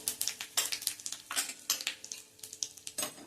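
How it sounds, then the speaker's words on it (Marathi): Mustard seeds, cumin, asafoetida and turmeric sizzling in hot oil, with sharp popping crackles and spits at an irregular rhythm over a soft hiss, close and clear with no talk. "त्यामध्ये मोहरी घालायची आहे, थोडेसे जिरे, पाव चमचा हिंग आणि पाव चमचा हळद"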